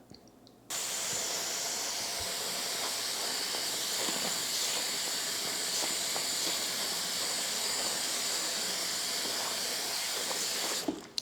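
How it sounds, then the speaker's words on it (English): Hot water runs steadily from a tap into a kitchen sink as a bath with a couple drops of dish soap is prepared, a continuous close hiss that starts abruptly and stops near the end, with no talking. "we're going to fill the sink and give it a nice hot bath"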